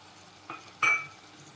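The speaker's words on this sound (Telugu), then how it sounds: "ఇలా బెల్లం వేసుకొని తిప్పుతూ ఉండాలి." A spoon stirring jaggery in a pan for semiya kesari gives two short, soft scraping strokes, the second louder and briefly sizzling, over quiet background.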